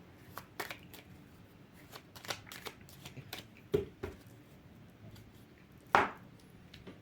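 Tarot cards handled and laid out on a table during a reading, giving soft scattered taps and shuffles with a few sharper slaps, one louder near the end, alone without talk.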